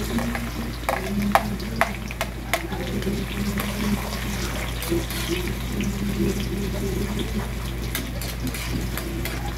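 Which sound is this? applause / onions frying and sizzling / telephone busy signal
onions frying and sizzling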